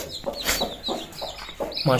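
A hen clucks with her newly hatched chicks, the mother's repeated low clucks mixing with thin chick peeps nearby, under a person's close talking.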